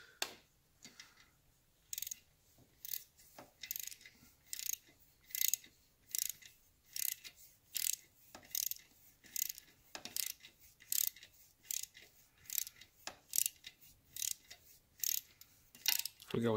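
Ratcheting clicks from a torque wrench tightening the swing arm nut on a 1975 Norton Commando Mk3 frame, set to 120 inch-pounds; sharp, close clicks come in quick bursts and steady repeated strokes throughout, with no talk.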